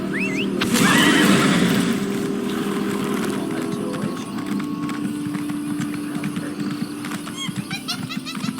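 A horse whinnies loudly near the start, followed by steady hoofbeats and ambient outdoor game sounds from The Elder Scrolls.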